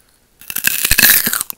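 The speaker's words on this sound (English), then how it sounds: "I'm gonna be doing some chewing, eating, and tapping." Crunchy, close-up biting and chewing of raw vegetables such as celery: a rapid run of sharp, loud crunches following one another with no talking.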